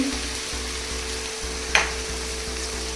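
Grated ginger goes into tomatoes frying down for spicy pav bhaji, with a steady close sizzle throughout and one brief sharper crackle midway.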